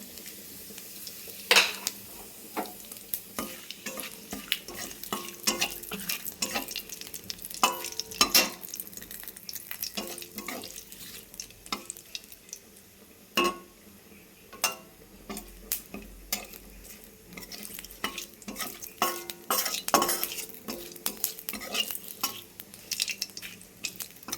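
Cumin seeds, dried red chillies and bay leaf tempering in hot oil, giving a steady sizzle broken by frequent sharp crackles and spoon scrapes against the pan, close and moderately loud with no talking.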